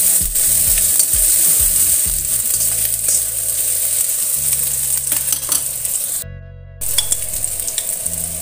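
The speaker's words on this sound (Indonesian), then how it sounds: "Tumis sampai bahan bumbunya ini harum ya." Spice paste sizzling and being stirred in hot oil for a thick coconut milk curry, a loud continuous fry hiss with scraping stirs, close and alone, briefly cutting out near the end.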